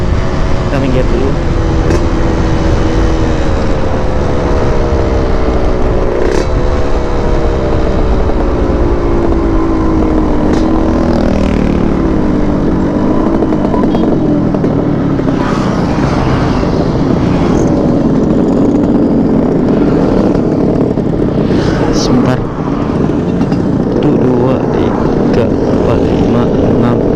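A Yamaha RX King two-stroke motorcycle on a road ride between Aceh Besar and Sigli drones steadily up close, its engine pitch climbing and sliding through throttle changes, with wind rush over the whole stretch.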